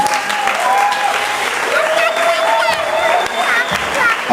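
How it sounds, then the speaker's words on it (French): Audience clapping in a hall at a parents' celebration evening, a continuous loud wash of many hands with some shouting or cheering voices and a whistle-like tone audible over it. "vous pouvez l'applaudir."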